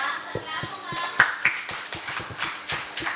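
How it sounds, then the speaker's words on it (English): Scattered, distinct claps from a small group during a school health and wellness class session, uneven and fairly close, with faint voices underneath. "Clap for ma'am."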